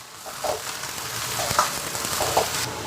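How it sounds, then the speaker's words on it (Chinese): Steady sizzling of stalky vegetables frying in hot rapeseed oil with garlic, with intermittent scraping and clattering as they are tossed and stirred in a wok. "一定要多翻炒，才能把这个杆给它炒熟、炒脆"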